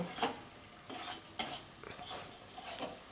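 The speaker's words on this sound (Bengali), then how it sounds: "এই সব মশলাগুলো দিয়ে আমি এটাকে ভালো করে কষে নেব।" Ground spices and coriander powder are stirred in a pan for a vegetarian pointed gourd malai curry, with a utensil scraping and clinking against the pan in several separate bursts and little sizzle.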